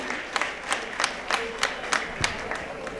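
Clapping from an audience at a credit cooperative society's 26th annual general meeting, heard as a rhythmic run of sharp, evenly spaced claps at moderate loudness with no talk.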